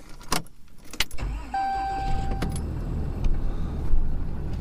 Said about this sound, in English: Now I just need to move the MegaCab, get the Tahoe out